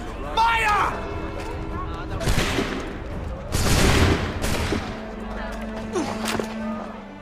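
Musket volley fire from Assassin's Creed 3: a couple of loud, sharp bursts of massed gunshots ring out amid shouting voices and commotion, each crackling blast fading before the next.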